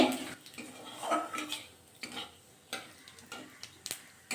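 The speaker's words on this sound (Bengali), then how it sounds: "নাড়াচাড়া করে ফোড়নটা ভাজা করে নেব" Dry red chilli and whole cumin are stirred through hot oil in a pan, a spatula scraping and clicking against the metal in irregular strokes over a faint sizzle, with no talking.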